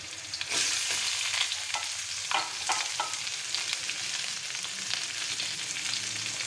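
Garlic and onion aromatics are sautéed in hot oil, a continuous bright sizzle broken by a few spatula scrapes and stirs against the pan, with no talking.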